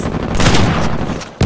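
Rapid gunfire from Uncharted 4 on PS4, loud, dense bursts of shots and booms crowding together across the moment, ending in a sharp final blast.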